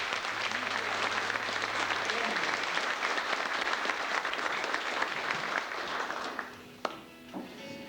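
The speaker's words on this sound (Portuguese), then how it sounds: "Uma salva de palmas" A crowd at a live radio broadcast event gives sustained, dense applause that fades out toward the end, with a voice talking briefly at the close.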